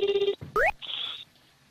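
A telephone call is placed on a Japanese TV prank-call segment, with electronic ringing and rising tones sounding close and clear for under two seconds before fading into quiet.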